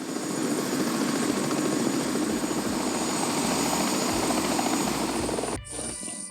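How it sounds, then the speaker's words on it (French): Helicopter in flight toward the Hamptons on the eastern end of Long Island, a steady loud rotor and engine roar that fills the whole cabin, dropping away abruptly near the end. "Le vol en hélico va durer 35 minutes."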